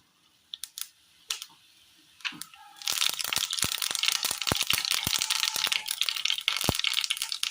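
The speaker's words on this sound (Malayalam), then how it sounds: "എണ്ണയിലേക്ക് കടുകിട്ട് കൊടുക്കാം" Sharp pops and crackles burst out after a few quiet clicks, becoming a dense, steady spluttering of mustard seeds in hot oil, close and lively.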